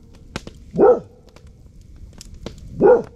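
A dog barks twice, a few seconds apart, close by outdoors on a windy evening near a campfire, with light clicks and rustling between the barks.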